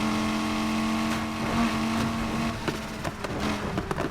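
Lamborghini Aventador SVJ in the racing game Need for Speed Heat, its engine droning and revving loudly with shifting pitch and sharp throttle changes, no talk.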